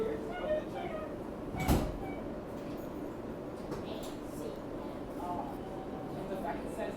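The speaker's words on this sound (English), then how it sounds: "Stand clear of the closing doors, please." An R160B Alstom subway train on the F line closes its doors with a sharp thud amid steady rumbling car noise and low background chatter.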